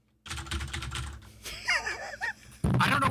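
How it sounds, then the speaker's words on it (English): A loud, clicky computer keyboard is typed on rapidly during a podcast recording, a dense burst of close keystrokes followed by some breathy, laughing vocal sounds and another short flurry of noise. "Have you heard you typing on the podcast yet? Because you clicky clack louder than anything I've ever heard"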